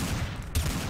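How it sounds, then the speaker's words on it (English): Gunfire in a Garry's Mod Trouble in Terrorist Town match: a dense burst of shots rattles throughout the second, with a sharp louder report near the middle, close and loud with no voices over it. "Did you just try to shoot at me, Joe?"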